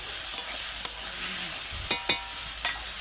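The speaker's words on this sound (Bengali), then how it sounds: "এবারে 1 চামচ লবণ দেওয়ার পরে আমি একটু হালকা নেড়ে দিচ্ছি" Greens are stirred lightly in a pan after a spoon of salt goes in, a steady sizzle under several sharp scraping and tapping strokes of a spatula, close and clear.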